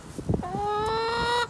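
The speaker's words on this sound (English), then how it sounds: "Let's take a look at the chickens." Farm chickens in a schoolyard coop, with one clear, sustained honking call lasting about a second after a few short low clucks, close and loud and standing alone.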